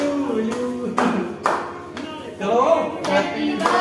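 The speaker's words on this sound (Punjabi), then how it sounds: "ਚਲੋ ਤਾਲੀ ਪਾਓ ਸਾਰੇ" Family members clap around a birthday cake at a home celebration, several bursts of claps close by, mixed with voices talking.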